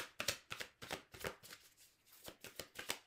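A deck of tarot cards being cut and shuffled close up, a quick series of crisp papery riffles and flicks in an uneven rhythm, quiet and alone.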